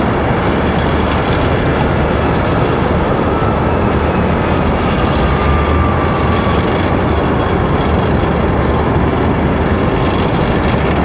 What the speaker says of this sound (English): It's crazy how you can hear those fan blades rolling around.